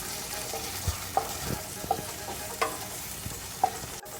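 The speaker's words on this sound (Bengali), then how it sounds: "এবার আমি এটা মিডিয়াম হিটে একটুখানি নাড়াবো।" Chicken stew is stirred in a pan over medium heat: a low steady sizzle runs throughout, punctuated by several sharp utensil scrapes and clinks against the pan, with no talking.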